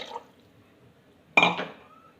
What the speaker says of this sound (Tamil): இதில் வந்து தேவையான அளவு புளி தண்ணி ஊற்றிட்டோம்